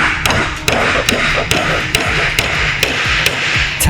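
A hammer taps a metal C-clip onto a tent pole in a quick, even series of about nine sharp, close strikes over a low background rumble.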